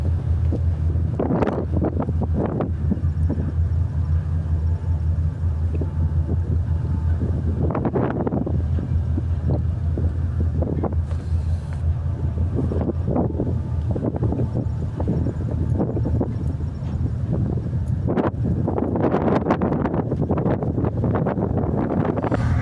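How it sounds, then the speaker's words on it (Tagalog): Strong wind buffets the microphone in a constant roar on the upper deck of a ferry travelling from Cagayan de Oro to Jagna, with low rumbling gusts that swell and fade over the steady drone of the vessel's engine. "grabe yung lakas yung hangin ko sa taas"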